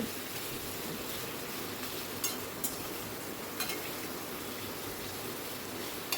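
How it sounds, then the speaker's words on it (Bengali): Taro (gathi kochu) pieces fry in hot oil in a pan while being stirred continuously: a soft, steady sizzle runs throughout, broken by a few sharp utensil clinks against the pan, with no voices. "আমি গাঁটি কচুর টুকরোগুলোকে একটু ভেজে নিচ্ছি"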